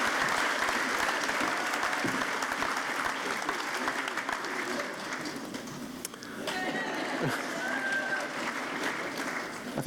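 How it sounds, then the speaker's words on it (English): Graduation ceremony audience cheering and applauding in a large hall, a steady dense wash of clapping and shouts filling the whole stretch at moderate level with a few whoops rising above it. "I think that's the sort of cheering that Aled was talking about earlier"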